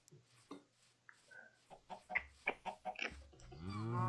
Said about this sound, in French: Allez, sort un œuf de toi, la poule.